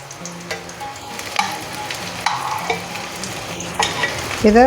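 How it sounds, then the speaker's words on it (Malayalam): Brinjal (eggplant) frying in a pan gives a soft steady sizzle, with a utensil stirring and scraping in repeated bursts close by. "ഇത് ഒരുപാട് അങ്ങ് വറുക്കേണ്ട ആവശ്യമില്ല. വറുത്താൽ തന്നെ അത് ക്രിസ്പൊന്നും ആകത്തില്ല."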